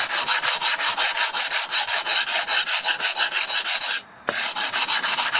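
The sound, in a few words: sanding a garden tool edge with 100 grit sandpaper on a block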